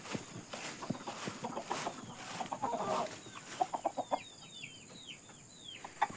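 Village chickens (ayam kampung), laying hens fed good rice bran, cluck in short irregular bursts near and far over a soft rustling background, with a few higher chirps toward the end.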